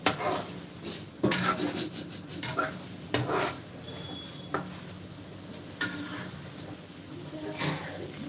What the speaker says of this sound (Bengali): আমরা এখন পাতিতে প্রচুর পরিমাণে মগজ উঠিয়ে দিলাম এবং এটা নাড়াচাড়া করব